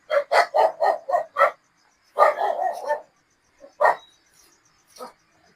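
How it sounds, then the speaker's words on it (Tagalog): Several dogs bark in a quick burst of five sharp barks, then a pause before another cluster of barks and a few scattered yips, fairly close and loud with no talk over them. "Oh, may mga aso."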